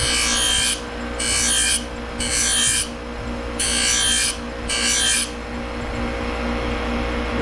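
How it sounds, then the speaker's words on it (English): A bamboo spatula is sharpened with repeated rasping strokes, five bursts of scraping, each about a second long with short pauses between, loud and close over a steady low hum. "I gotta put a keen edge on this bamboo spatula."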